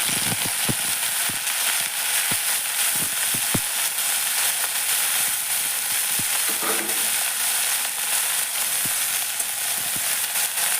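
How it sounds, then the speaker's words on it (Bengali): Water lily stems hiss and sizzle steadily in hot oil in a pan with green chillies and garlic, with sharp crackles and pops scattered over the constant frying noise, close and fairly loud with no talking. "এবার দেখো আমি শাপলাটাকে ছেড়ে দিই।"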